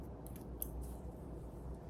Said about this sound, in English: I'm going to take the scissors and I'm just going to cut that hair off